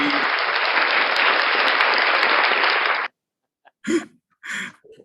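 A room of listeners claps for the facilitators of a community tech program, a loud, even burst of applause lasting about three seconds before it stops cleanly and a few short spoken words follow.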